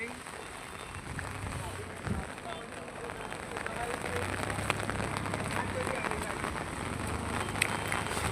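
Rain falls steadily as a continuous hiss of drops hitting surfaces beside a highway with heavy traffic during a downpour, and a voice talks intermittently underneath.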